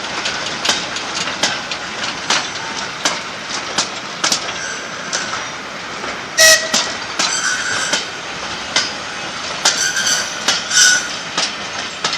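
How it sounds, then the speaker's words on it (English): A train rolls past at a heritage railway with a steady rumble and rhythmic clicks of wheels over rail joints, plus brief metallic squeals, continuous and fairly loud. "you can't stop at a railway and not look at the trains, really"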